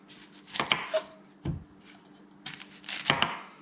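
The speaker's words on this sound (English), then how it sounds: "I take an onion, and this is how I like to do it. I cut off both of the end pieces" A knife chops through the ends of an onion on a cutting board in two or three firm, close thuds, with no talk over the cuts.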